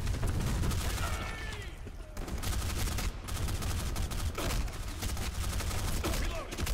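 Sustained gunfire from the Black Squad online shooter, rapid automatic bursts crackling almost continuously, loud and dense throughout with brief lulls.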